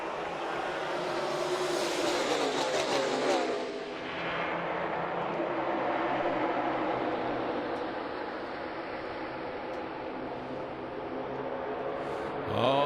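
NASCAR stock cars racing side by side at the All-Star Race, a loud, dense engine roar that swells as the pack passes and then settles into a steady, distant drone.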